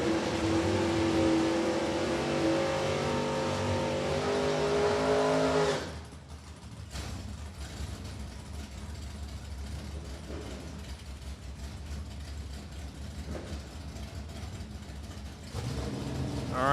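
NHRA drag racing cars at Thunder Valley Motorsports Park: a loud engine roar with climbing pitch for about six seconds, then a lower, more distant rumble with scattered noise.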